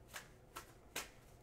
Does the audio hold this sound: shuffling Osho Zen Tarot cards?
yes